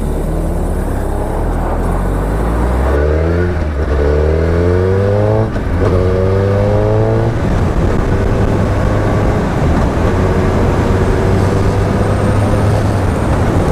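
A Suzuki Hayabusa superbike engine drones loud and close while riding on a road, its pitch climbing in repeated gear-by-gear sweeps before settling into a steady high-speed roar over wind noise.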